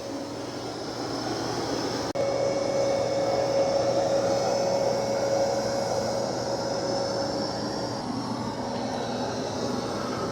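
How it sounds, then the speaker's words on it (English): Dreame X60 Max Ultra robot vacuum cleaning a carpet with a coffee spill, giving a steady, moderately loud whirring drone with a thin high whine throughout and no speech. "Wow, it's doing a good job of vacuuming."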